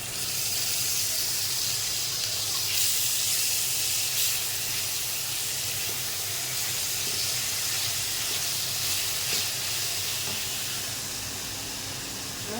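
Onion, garlic, ginger and cumin frying in oil in a pan after potatoes, for a rohu fish and potato curry: a steady, loud hissing sizzle that goes on without a break, fading slightly near the end.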